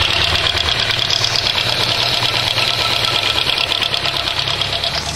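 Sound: Hyundai Tiburon engine ticking and knocking at rough idle

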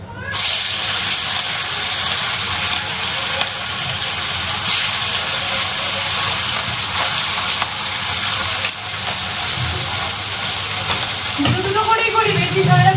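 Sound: fish frying in hot oil

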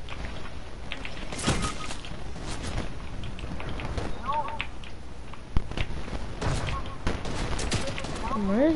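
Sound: gunfire in video game Fortnite

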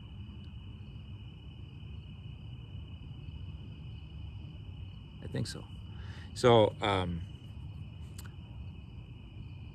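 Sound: cicadas buzzing, 17-year periodical cicadas

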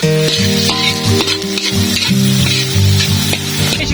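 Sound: sautéing aromatics in a pan for pochero

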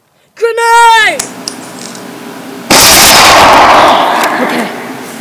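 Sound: grenade explosion

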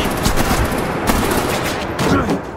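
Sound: gunfire in Batman The Enemy Within video game

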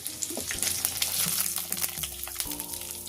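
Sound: vegetables frying in oil

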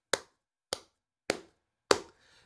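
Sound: three hand claps to sync audio

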